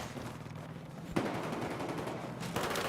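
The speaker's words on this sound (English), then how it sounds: "Definitely getting a little bit too excited here with these shots and definitely not taking his time." Gunfire in the Battlefield 4 video game, a sharp burst of rapid shots with dense crackling fire continuing after it, fairly quiet and without speech.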